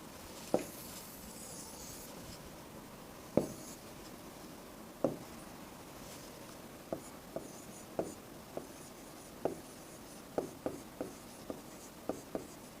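Chalk or marker writing on a board during a Sanskrit lesson, with irregular taps and short scratchy strokes that grow quicker toward the end, close and distinct over a faint room hiss.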